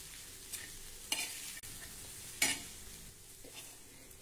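Pigeon pea chutney with onion and garlic being sautéed and stirred on a griddle, a low sizzle running throughout with a few scraping stirs standing out, close and fairly quiet.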